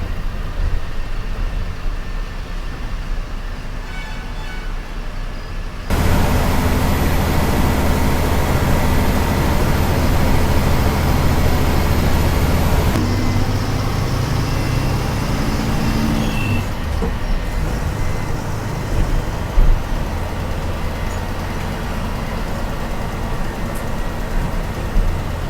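A Zing Bus Plus coach engine drones steadily from inside, with road rumble rising and falling as it moves along the highway near the Porur toll gate.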